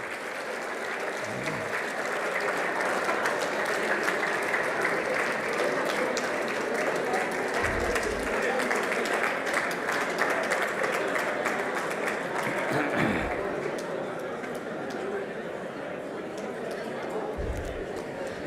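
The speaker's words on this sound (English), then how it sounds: "A big round of applause." Audience applause fills a hall at a panel discussion on AI and cyber security, a sustained, even wash of clapping from many hands lasting throughout with only slight swells.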